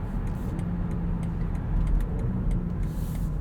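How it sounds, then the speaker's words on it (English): A 2020 BMW X5 xDrive40i with its inline-six engine on the move, giving a steady, loud broadband drone of engine and road noise with no voices. "Even this inline 6 is quite fun and sprightly to drive. Sounds pretty good."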